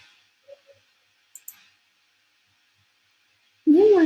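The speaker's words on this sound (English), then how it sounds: "once you type, you'll just need to click on save" A computer mouse clicks on a save button, two or three sharp, quiet clicks in near silence before a voice begins talking.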